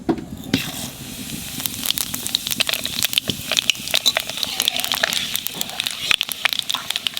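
Panch phoron spices sizzling in hot mustard oil for an elephant apple pickle, a steady close crackle with frequent sharp pops and spits running throughout.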